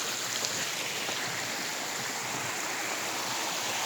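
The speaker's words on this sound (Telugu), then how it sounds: "మినీ వాటర్ ఫాల్ చూడండి" A small waterfall and stream flowing in nature, a steady, dense rushing and splashing of water that stays close and constant throughout, with no talk.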